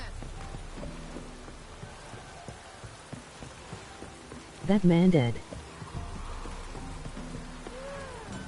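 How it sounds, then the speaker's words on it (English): Steady rain falls in the open world of The Witcher video game, a continuous soft patter under a brief spoken line in the middle. "Looks like rain."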